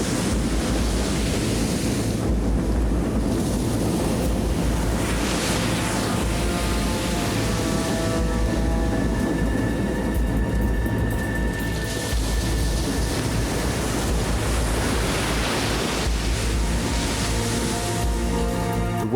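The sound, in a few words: rough sea in a squall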